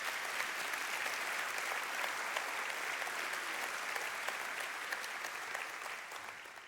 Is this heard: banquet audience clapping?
yes